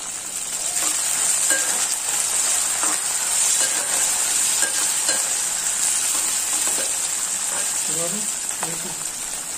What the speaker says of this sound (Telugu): ఉల్లిపాయలు వేగిన తర్వాత కొద్దిగా తరిమిన కొత్తిమీరను వేసి కలుపుకోండి.